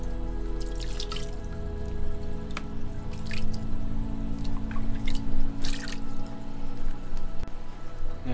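Water trickling and dripping as sand is rinsed off a war coral colony, with irregular splashes over a steady hum of aquarium equipment and no talking.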